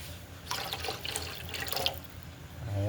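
Water is poured into a cooking pot to be boiled for a vegetable dinengdeng, with a splashing, gurgling stream that starts after a short pause and runs steadily to the end.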